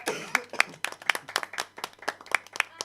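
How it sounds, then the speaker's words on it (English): An audience gives a round of applause for the players at a live tabletop role-playing game event, with scattered hand claps in a loose, uneven rhythm that sounds like a small crowd, close by. "We are going to give another round of applause to our players."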